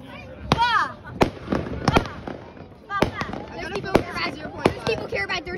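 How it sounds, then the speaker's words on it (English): Fireworks at a beach show go off in a series of sharp, loud cracks and pops at irregular intervals, some followed by crackling whistles, while people chat nearby. "People care about their tiny fireworks."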